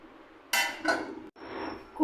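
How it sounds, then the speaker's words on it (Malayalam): Melted jaggery syrup for unniyappam is strained through a sieve into a metal vessel, with two sharp clanks of cookware followed by a softer pouring rush, close and alone. "ഇനി നമുക്ക് അരിച്ചെടുക്കാം"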